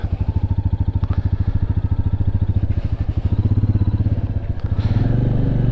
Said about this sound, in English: So we'll get on the bike and have a quick ride around, eh?